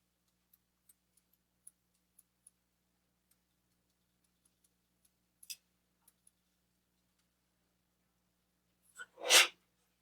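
One sharp sneeze near the end, close and loud after a long stretch of near silence broken only by faint ticks.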